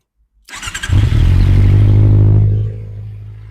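A Honda CBR650R motorcycle engine cranks with quick stuttering pulses, catches into a loud, close, high rev, then eases down to a steady idle hum.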